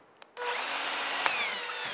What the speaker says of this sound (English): and just drill down, you'll feel it stop when you hit bottom